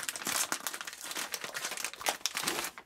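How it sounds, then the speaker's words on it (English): A TraumaFix trauma dressing package is torn open at the notch: a close, quiet, continuous crinkle of plastic wrapping with small crackling bursts and no speech. "to open, locate the tear notch"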